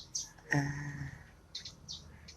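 Several short, bright bird chirps outdoors, scattered over a couple of seconds at moderate distance against a quiet background.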